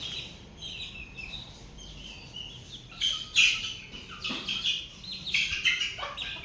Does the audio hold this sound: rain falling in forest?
no